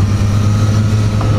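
A Suzuki GSX-S 1000 four-cylinder motorcycle engine hums smoothly and steadily nearby for a brief moment, an even low drone without revving.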